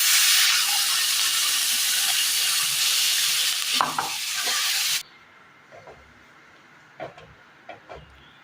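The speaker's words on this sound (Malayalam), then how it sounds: "ഈ സമയം ഇതിലേക്ക് അരപ്പ് ചേർത്ത് കൊടുക്കാം" Ground masala paste hits hot oil in a pan of Kerala-style peanut curry and sizzles loudly and steadily. The sizzle then drops away abruptly, leaving a few soft clinks of stirring.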